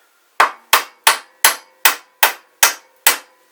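The hammer head of a WJQ-308 Chinese army folding shovel strikes eight times in an even rhythm, each a sharp, ringing metallic hit that decays quickly, loud and close with silence between blows.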